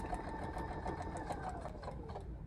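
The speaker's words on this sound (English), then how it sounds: "I'm just sewing from the top" Home sewing machine stitching fabric for paper piecing with a shortened stitch, a steady close whirring hum of rapid needle strokes running continuously with no talk.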